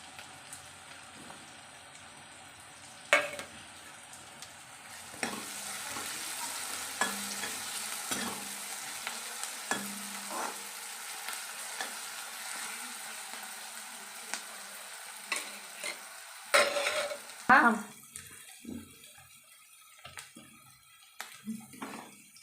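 Onion and garlic frying in oil for fenugreek curry, a soft steady sizzle with intermittent spatula scrapes and a few louder clattering stirs, fairly quiet and close.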